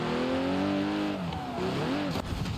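Porsche mod car in BeamNG Drive driving and revving, a loud engine whine with pitch sweeping up and down, then a sudden dip and short disturbance near the end.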